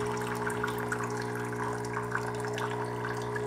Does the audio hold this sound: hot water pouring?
yes